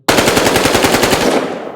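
A 5.56 caliber rifle from Battlefield Hardline game audio fires a loud, rapid burst of closely spaced shots, close and unbroken, then trails into a short fading tail.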